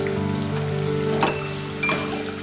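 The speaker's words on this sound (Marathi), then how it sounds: "दुसरी बाजूही अशीच खरपूस तळून घेऊया" Sabudana potato cutlets fry in oil in a pan with a steady crackling sizzle, even and close throughout.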